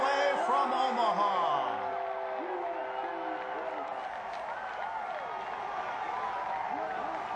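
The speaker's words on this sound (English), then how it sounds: "This sellout crowd at Goss Stadium at Coleman Field, all on their feet in anticipation." Sellout stadium crowd at a college baseball game at Goss Stadium at Coleman Field, on their feet, keeps up a steady loud roar with whoops and yells, no one speaking close by.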